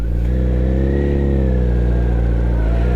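A motorcycle engine held at around 2,000 RPM, a loud, close, steady mid-pitched drone with a slight rise and fall in revs, running continuously without speech.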